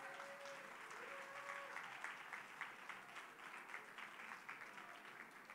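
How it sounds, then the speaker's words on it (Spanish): Faint, distant applause from a crowd at a prize draw, a steady patter of clapping that carries on for several seconds. "Un aplauso, por favor, para Rubén."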